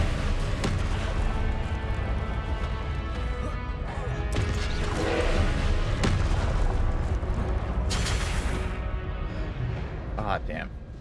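Confringo spell explosions in the video game Hogwarts Legacy: repeated loud booming blasts and crashes over a dense, continuous battle din.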